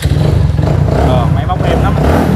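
Motorcycle engine running at a steady idle, a loud, close, continuous rumble with a faint clatter, while someone talks over it.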